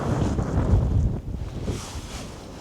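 Wind gusts against a Hilleberg Nammatj tunnel tent pitched into the wind, a rough rushing buffet that swells and then eases off.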